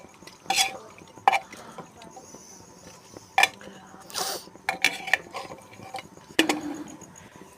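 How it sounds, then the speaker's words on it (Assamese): A pressure cooker lid is fitted over boiling potatoes, giving a few sharp metallic clanks and clicks spread apart with quieter rattling between them. "কুকাৰৰ ঢাকন লগাই দিছোঁ"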